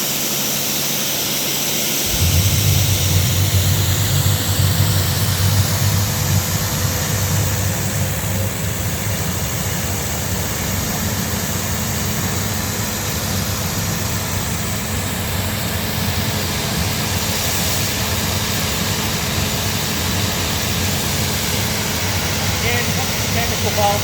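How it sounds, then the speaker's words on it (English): An industrial hot and cold pressure washer sprays chemical, starting with a sudden onset and running as a loud, steady, broadband hiss and rumble from close by for over twenty seconds. "we're going to open the chemical valve up and pull the trigger"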